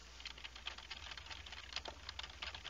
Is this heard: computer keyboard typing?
yes